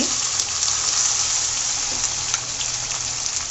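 Ginger, garlic and spices fry in hot oil for beef bhuna, a steady close sizzle with no break across the few seconds.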